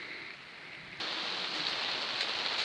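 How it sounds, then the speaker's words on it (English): Rain falls steadily on outdoor grape vines in a cold climate, a dense, even hiss that swells louder after a moment and continues without talk. "So yeah, nice bit of rain."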